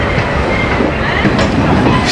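Shaktipunj Express rolling through Asansol station in India, a loud, steady rumble of a passenger train with rhythmic wheel clatter and faint squeals close by.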